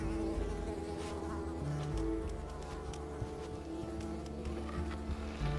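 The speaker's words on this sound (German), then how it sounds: "Und die Mücken verfolgen mich gerade." Mosquitoes buzz in the video game Unravel, a steady insect whine droning continuously at moderate level over a low game soundtrack hum, with no talk.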